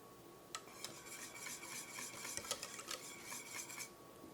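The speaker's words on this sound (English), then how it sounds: "Make sure you stir it constantly so that way it doesn't stick to the bottom and burn." A utensil scrapes and stirs vanilla pastry cream in a pot in a continuous, busy rhythm with small metallic knocks, faint and close, with no talking.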